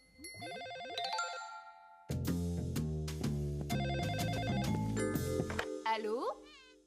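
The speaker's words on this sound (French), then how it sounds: "Eh oui, c'est un coup de téléphone pour Stanley." A ringing telephone in a French children's cartoon sounds as repeated bright electronic rings in a steady pattern, set against musical tones before and after.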